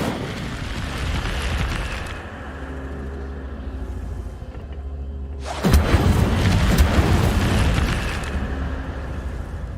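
A fire spell cast in the Hogwarts Legacy video game erupts in a loud whooshing burst of flame over a low rumbling backdrop, then a roaring crackle that slowly fades.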